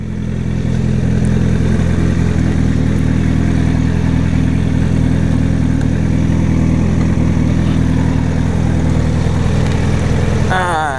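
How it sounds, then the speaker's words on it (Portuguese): A motorcycle engine runs close and loud with a steady, deep throbbing rumble, ending with a brief rising whine. "Vou botar a moto lá na frente, na sombra."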